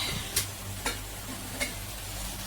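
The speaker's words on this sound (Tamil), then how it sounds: "இங்கே மட்டன் வெந்துக்கிட்டு இருக்குது" Mutton cooking in a pan, with a steady low simmering hiss broken by three brief scraping stirs at roughly even intervals, heard close and alone.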